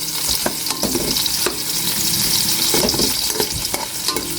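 Ginger slices fry in a hot pan, browning with a steady close sizzle broken by occasional clicks and scrapes of a spatula stirring.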